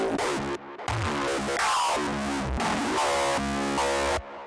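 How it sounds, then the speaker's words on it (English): Hardstyle kick effect built in FL Studio: a loud, distorted, pitched electronic kick with a gritty tonal tail and sweeping noise, cut into abrupt chopped sections with short gaps of silence. "Kick effects are a really big part of hardstyle and hardstyle productions"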